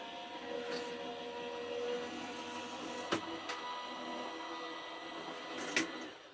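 Die-cutting machine running paper through, a faint steady whirring mechanical hum with a few sharp clicks and clunks of the rollers, heard alone in a quiet room.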